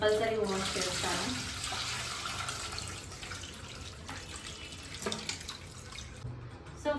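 A tap runs steadily in a kitchen while raw chicken is washed with salt and turmeric, the water splashing and dripping softly at close range.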